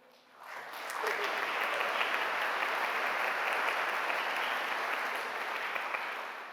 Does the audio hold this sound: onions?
no